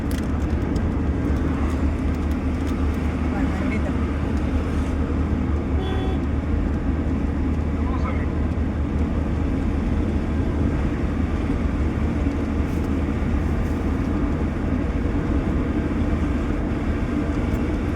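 A vehicle drives slowly along a narrow road near a wall in Tirupati, with a steady low engine and road rumble continuing throughout, moderately loud and unbroken.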